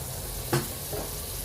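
Coconut oil poured into a hot pan for a Kerala-style mackerel chilli curry gives a short, soft splash and hiss near the middle, then a faint, steady background sizzle.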